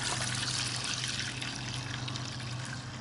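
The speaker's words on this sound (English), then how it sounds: "and then fill it up with water" Water pours steadily into a container of cleaning solution used for soaking Briggs and Stratton carburetor parts, a continuous close, rushing fill with gurgling that holds fairly even throughout.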